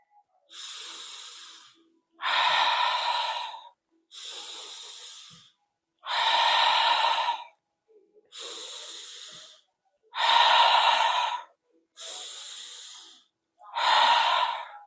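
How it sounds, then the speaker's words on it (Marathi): A person breathes during a guided breathing exercise, drawing air in through the nose and releasing it through the mouth, eight hissing, close-up breaths in a slow, even rhythm with short silent gaps between them. "नाकाने घ्या, तोंडाने सोडा."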